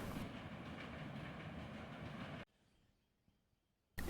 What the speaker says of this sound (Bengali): কিন্তু আশ্চর্যের বিষয় এই ট্রেনটিও এই স্টেশনে থামল না